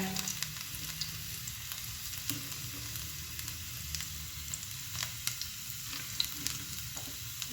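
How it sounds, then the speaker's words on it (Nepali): Cashews fry in a pan with a close, continuous crackling sizzle dotted with small irregular pops, steady throughout with no voices. "यहाँनिर चाहिँ म थोरै काजु फ्राई गर्दैछु।"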